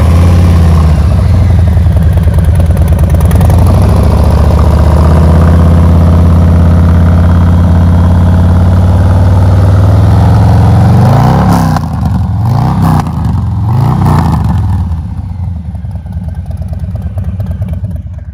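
A 2021 Harley-Davidson Fat Boy with an M8 114 engine and FPE turn-out side dump exhaust idles with a loud, deep, lumpy rumble, then blips the throttle in several sharp revs before settling back.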